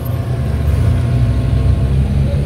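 An underbone motorcycle engine running, a steady low rumbling hum held close and fairly loud throughout, with no voices over it.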